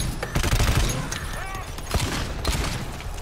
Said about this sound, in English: 3, 2, 1, start shooting.